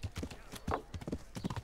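Horse hooves clip-clopping while riding in Kingdom Come: Deliverance, a quick, steady galloping rhythm of sharp thuds, close and fairly quiet, with soft voice-like sounds mixed in.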